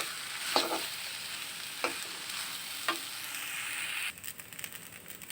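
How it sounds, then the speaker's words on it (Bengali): Rice and lentils stir-fried together in a pan for bhuna khichuri, a steady sizzle with a few distinct scraping strokes of the spoon, close and alone. "কিছুক্ষণ ভেজে নেব।"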